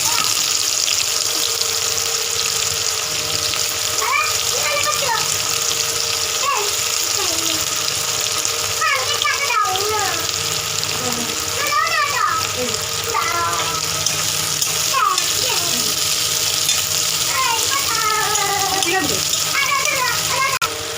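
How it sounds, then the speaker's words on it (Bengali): Onions fry in a pan while chicken curry is cooked, giving a steady, continuous sizzling hiss as a voice talks over it. "পেঁয়াজগুলো ভাজা হচ্ছে"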